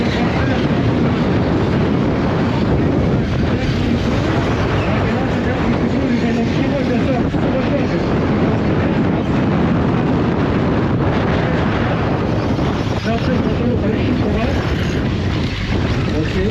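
Strong outdoor wind buffets a microphone, producing a loud, continuous rumbling roar that never lets up throughout.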